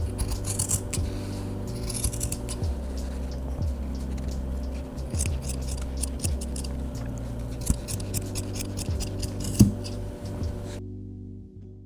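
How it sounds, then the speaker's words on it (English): Scissors snip repeatedly through fabric while cutting a trouser leg for a blind hem, a string of close, crisp crunching cuts with short pauses between, no voices. "I'm gonna cut on the top leg and then use that as a guide for cutting the bottom"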